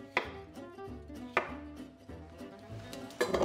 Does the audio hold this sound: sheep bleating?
no